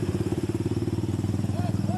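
A motorcycle engine pulses in a steady, throbbing rhythm nearby at a night police checkpoint on a city street, continuous and fairly loud, with faint background chatter.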